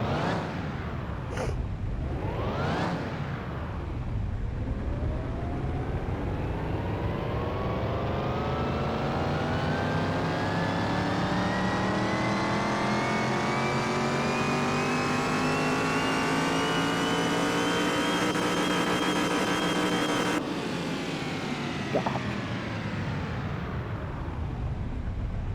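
In a car mechanic simulator game, a junkyard Camaro's supercharged engine on a dyno revs up in one long, loud, rising pull after a couple of brief blips, then drops back abruptly toward idle.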